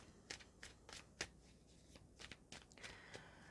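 A deck of animal spirit oracle cards being shuffled by hand, giving a run of quick papery riffles and soft slaps in uneven bursts, close and fairly quiet, with no voices.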